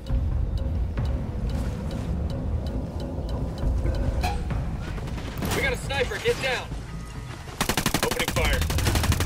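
Bursts of automatic gunfire in the tactical shooter Ghost Recon Wildlands, rapid rattling volleys that intensify and become dense and continuous near the end, mixed with game voices and background effects.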